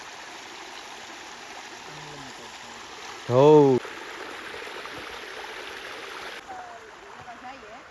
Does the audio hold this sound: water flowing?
yes